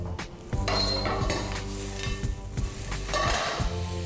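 Butter, apples and raisins sizzle in a frying pan over high heat, with steady frying crackle and the clink of a utensil stirring the pieces, close and continuous.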